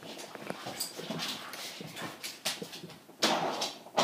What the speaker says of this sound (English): oh my goodness, the dog is going crazy